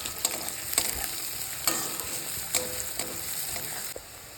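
Ginger fries in a pan for a dhaba-style egg tarka, a steady bright sizzle broken by sharp, regular scrapes of a spatula stirring it.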